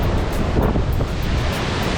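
Ocean waves surge and crash continuously at Playa de la Pared on Fuerteventura, a dense roaring wash of surf mixed with heavy wind buffeting the microphone.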